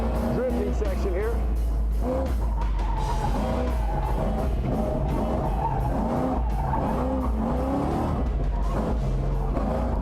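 A race car drifting on a track, engine roaring loud and steady throughout with squealing tires rising and falling in long sweeps, while someone talks over it.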